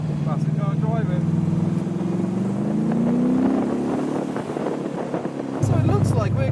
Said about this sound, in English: Oh look, classic car driving.